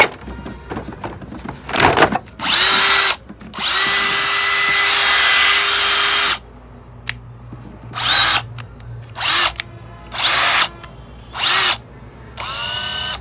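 A Bosch cordless drill spins up in repeated bursts, one long whine held for a couple of seconds and several shorter revs, its pitch rising and falling as the speed changes.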